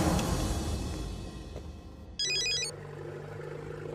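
A telephone rings once in a short, loud burst of trilling electronic tones, heard over a background of film music and ambient noise in a Telugu film scene.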